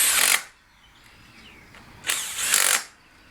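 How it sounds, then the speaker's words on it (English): A power drill driving bolts whirs in short, loud bursts, one brief burst followed by a longer two-part run after a quiet gap. "I have my drill right here"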